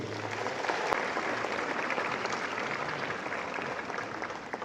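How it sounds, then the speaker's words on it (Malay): Steady, dense applause from a large audience at a university convocation ceremony, filling the full stretch at an even level with no pauses. "beri tepukan gemuruh untuk diri anda sendiri"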